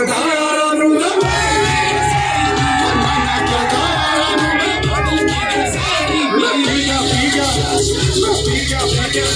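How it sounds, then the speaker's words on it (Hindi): A large event audience cheers and whoops loudly and continuously, with children shouting and yelling in a dense, excited roar. "जोरदार ताली यार"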